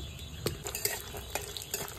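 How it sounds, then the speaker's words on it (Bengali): Peanuts fry in white oil in a kadai for a semolina upma, giving a faint, soft sizzle marked by light, irregular clinks and stirring taps, with no voices. "বেশি সাদা তেল দিয়ে দিচ্ছি, বাদামটা ভেজে নেব। বাদামগুলো দিয়ে দিচ্ছি,"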